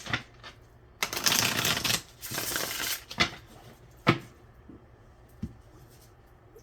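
Tarot cards being shuffled for a reading: two sustained riffling bursts close by, followed by a few sharp taps and soft card knocks, with no talking.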